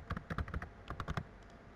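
Fast typing on a computer keyboard, a quick run of close, quiet key clicks, a short pause, then another burst of keystrokes.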